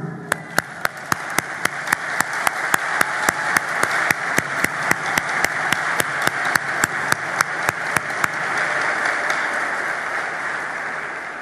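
An audience applauds at a political speech in Haiti, a broad steady wash of clapping while sharp, evenly spaced claps ring out on top in a regular rhythm for about eight seconds before trailing off.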